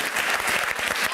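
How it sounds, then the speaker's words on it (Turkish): Applause from a studio audience on a Turkish quiz show, dense and loud, rapid overlapping claps at close range for a short burst without a break. "Alkışlar gelsin."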